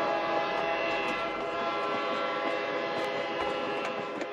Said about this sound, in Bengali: ওই সময় ট্রেনটা ঘন জঙ্গলের মাঝখান দিয়ে নিজের গন্তব্যের দিকে এগিয়ে চলছিল।